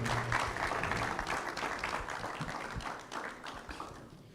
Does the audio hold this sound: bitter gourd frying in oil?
no